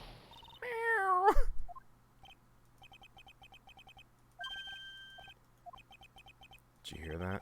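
A short synthesized cat meow rises and wavers in the Phoenix Wright: Ace Attorney - Justice For All video game, followed by sparse clicking text blips over a low steady hum before another voice-like sound at the end.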